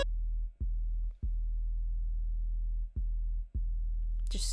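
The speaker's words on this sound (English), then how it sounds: "I've got a really simple sub bass on here" A simple synth sub bass plays solo, a steady low drone at the bottom of the range with a few brief gaps where notes retrigger, alone without any talk, ending in a short burst of brighter noise.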